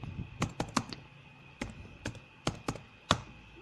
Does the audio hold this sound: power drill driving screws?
no